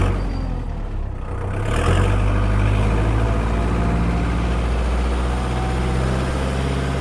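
Kubota MU4501 45 hp tractor engine revving up to high RPM, a loud steady low rumble that builds after the first couple of seconds and holds a heavy sustained drone, close by with no talking.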